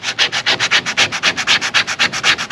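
Hand sanding over a filled screw hole in fiberglass, quick rhythmic back-and-forth scrubbing strokes, close and loud, about six per second with no talk.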